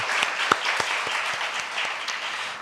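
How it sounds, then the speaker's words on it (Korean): A congregation at a Korean-language Sunday worship service claps after communion, producing a short burst of close, crisp applause with a few sharper individual claps standing out. "기쁨과 영광의 박수 돌리도록 하겠습니다"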